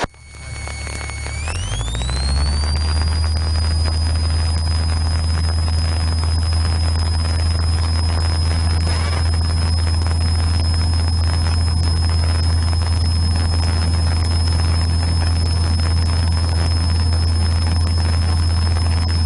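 A heavily loaded Cessna 152 light aircraft on its takeoff run for a first solo flight: the engine quickly rises to full power, then holds a loud, steady, close drone throughout.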